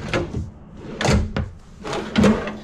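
Several soft thuds and muffled slides of soft-close cabinet drawers or doors closing in a KZ Durango 348BHF fifth-wheel RV kitchen, spaced a second or so apart, fairly quiet with no talking.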